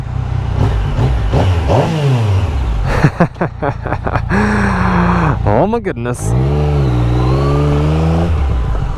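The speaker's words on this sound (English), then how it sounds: "Start her up. Let's give it a little rev here." A Yamaha MT-09 motorcycle fitted with a LeoVince full exhaust idles and is revved several times, loud sharp blips rising and falling in pitch, with short crackles between revs and a person speaking briefly over it.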